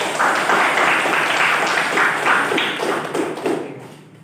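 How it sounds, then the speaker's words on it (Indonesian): Classroom applause in a school lesson, a dense patter of many hands clapping together for a few seconds before fading out near the end. "Tepuk tangan dulu untuk Dadang."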